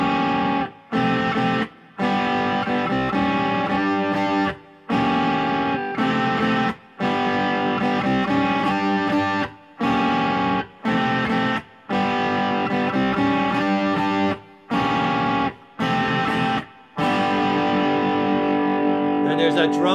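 An electric guitar with distortion plays a classic song intro four times, loud and near, in repeated chord phrases separated by brief pauses.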